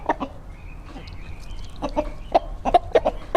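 Roosters and hens on a homestead give sharp clucks and short squawks, bunched toward the end in a quick irregular run, with a faint higher call drawn out in the middle; the birds sound close and clear.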